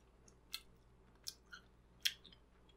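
Double Bubble bubble gum is chewed in a few soft, wet, sticky smacks spaced about half a second apart, close and quiet against a low hum.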